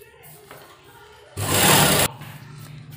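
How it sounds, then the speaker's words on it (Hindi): A sewing machine runs one short, loud burst of stitching along a marked line on kurta fabric, near and steady for under a second, with quiet room noise before and after. "सबसे पहले हम ये ऊपर जो हमने निशान लगाया था इसके ऊपर सिलाई लगाते हैं"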